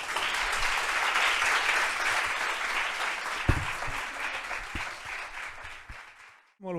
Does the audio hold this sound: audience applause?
yes